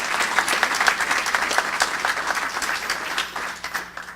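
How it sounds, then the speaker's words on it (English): An audience at a chamber of commerce mayoral candidate event gives a steady round of applause, dense clapping that fades toward the end. "let's give all these gentlemen a round of applause"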